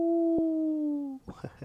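A voice imitates a wolf howl, one long sustained falling tone with a brief break in the middle, followed by a few short clipped yelps.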